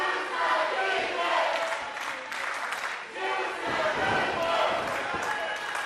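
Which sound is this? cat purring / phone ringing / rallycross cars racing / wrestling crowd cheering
wrestling crowd cheering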